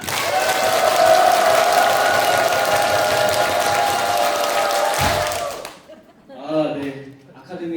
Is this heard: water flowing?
no